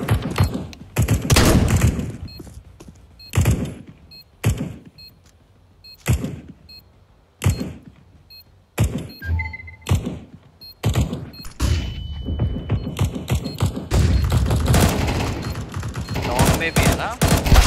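Gunshots in the video game CS:GO 2, a series of sharp loud bursts of gunfire, single shots and rapid volleys spread across the clip, with a player talking between them.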